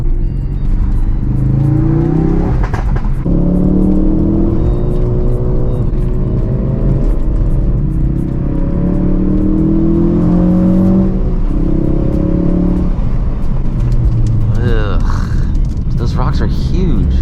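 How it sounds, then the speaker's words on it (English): A Ford Focus RS with all-wheel drive pulls away under hard acceleration on a road, its engine note rising through gears with loud continuous drone, a brief shift dip and later some higher-pitched whine or tire noise. "Feels nice pulling out with that all-wheel drive."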